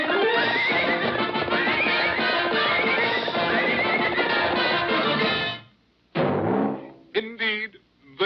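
A cartoon horse in a Disney Goofy short gives a long, loud, quavering whinny, followed by a few short snorts and hoof clops.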